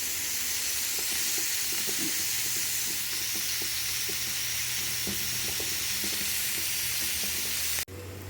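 Cauliflower and broad beans fry in a pan with a steady, dense sizzle and hiss that runs throughout, with faint scattered crackles and light stirring taps close by, ending in a sudden brief drop.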